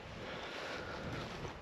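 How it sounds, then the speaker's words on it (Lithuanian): Strong wind gusting steadily beside a lake at a cabin, a broad continuous roar buffeting the microphone throughout with no voices. "Nes žiauriai vėjas didelis."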